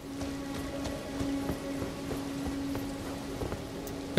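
Horse hooves clip-clop at a steady walking rhythm while riding through the world of the video game Elden Ring, a soft repeated thudding close by over a low constant ambient hum, with no voices.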